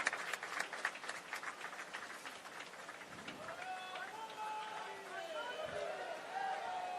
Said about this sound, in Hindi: बाईं ओर की दर्शकों से अनुरोध है, जोरदार तालियों के साथ अभिनंदन करें माननीय मुख्य अतिथि महोदय का।